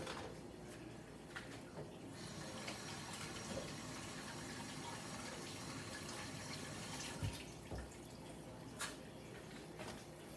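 Tap water runs steadily into a sink as hands are washed after peeling food in a home kitchen, a continuous close splashing hiss with a few brief clunks and drips.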